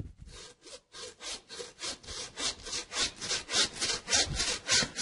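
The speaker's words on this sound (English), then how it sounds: "I'll go just about an inch toward the butt on this and start cutting down. I've got to go through the blade bone." A saw cuts through the blade bone of a pork carcass with a steady run of close, rasping back-and-forth strokes that grow louder as the cut goes on, with no talking.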